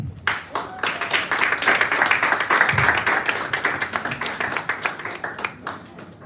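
Applause rises from a modest audience at a writers' cohort finale, many hands clapping in a brisk, uneven patter that stays strong for several seconds before thinning slightly.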